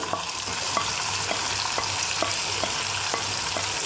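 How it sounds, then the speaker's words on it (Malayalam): Fried prawns tossed into a pan for prawn roast, with a steady loud sizzle and rhythmic stirring scrapes repeating about twice a second, no voices. "ഇതാണ് നമ്മൾ വറുത്ത ചെമ്മീൻ ഇതങ്ങാട് ഇട്ട് കൊടുക്കാം"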